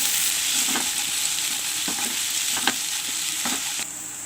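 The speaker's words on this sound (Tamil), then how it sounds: "வெங்காயத்தை நல்லா வதக்குங்க." Onions sauté in a hot pan for a spicy masala pasta, with a continuous, bright sizzle and several distinct scraping stirs of a spatula. No one speaks.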